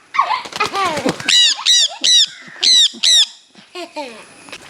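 Pet birds in a large new cage give loud, close, repeated harmonic squawks and calls in quick bursts, with short gaps and possible wing movement between the calls.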